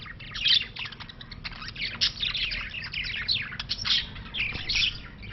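Several birds chirp and tweet steadily near nests in Thailand, a busy overlapping chorus of high calls close by with no talking.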